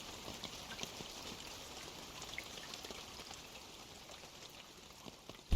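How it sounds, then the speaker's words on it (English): Steady hiss of video game rain patters continuously at moderate, even volume, with no voices, ending in a brief thump. "Oh, it's starting to rain."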